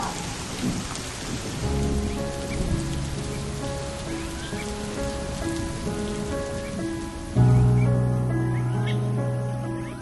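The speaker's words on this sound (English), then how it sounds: "it started to pour with rain, a typical subtropical summer drenching" A heavy subtropical summer rainstorm pours down in a garden, a loud, unbroken wash of rain with rumbling thunder. Steady tones rise partway through and hold to the end under the downpour.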